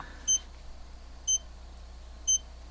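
A Seiko The Great Blue chronograph dive watch with a Japanese 7T62 movement sounds its alarm: three short, thin electronic beeps spaced about a second apart, faint against a quiet background.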